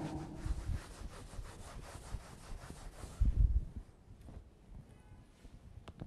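A board is rubbed during a chemistry lecture, making a rough scraping rub in repeated strokes, loud and close, then trailing off into quieter scuffs, with no talking.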